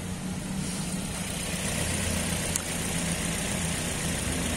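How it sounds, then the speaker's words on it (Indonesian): A 2015 Toyota Vios Limo sedan idles with an even, low mechanical hum close by, steady for a few seconds with no voices. "Masih enak mesinnya bos. 85 juta loh ini. Kita lihat ke depan. Pincang nggak mesinnya?"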